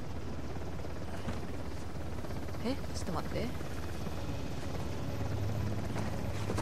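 Helicopter from the video game Uncharted, a steady whirring rotor drone that fills the background throughout while someone talks over it.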